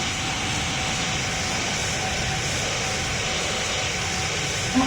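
A steady, broadband jet engine roar from an airplane in flight in a flight simulator game, continuous and unchanging throughout with no talk.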